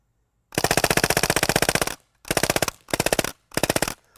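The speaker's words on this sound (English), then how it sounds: "shooting a full auto BB gun for the first time was a lot more fun than I expected" A full-auto, open-bolt BB gun fires one sustained rapid burst of about a second and a half. Three shorter bursts follow with brief pauses between them, loud and close.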